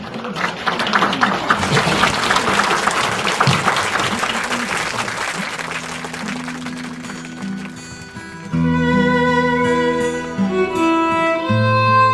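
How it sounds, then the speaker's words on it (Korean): Audience applause at a poetry recitation concert, a sustained, loud clapping crowd that fades out as soft instrumental music begins playing. "여러분 큰 박수로 모셔보도록 하겠습니다"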